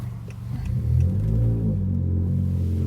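A tuned 2019 Honda Accord Sport 1.5T with a loud aftermarket exhaust, driven in sport mode with paddle shifters, gives a steady deep engine drone that swells as it accelerates and then holds at a constant, close rumble.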